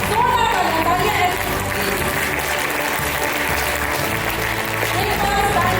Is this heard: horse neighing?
no